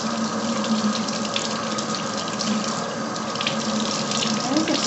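Fabric is rinsed under a running tap to wash out candle wax, and water streams steadily into a sink as a close, continuous gushing hiss.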